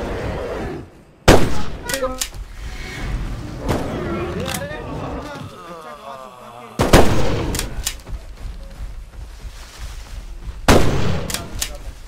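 Gunfire rings out in a Bigfoot video game, a few sharp loud shots spaced several seconds apart over a continuous rumbling game background, with someone talking throughout.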